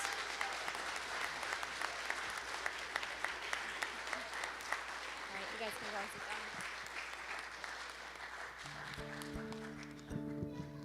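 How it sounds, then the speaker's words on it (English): A church congregation claps in steady applause for several seconds, then a voice begins speaking as it fades. "can you give our fifth graders one more round of applause?"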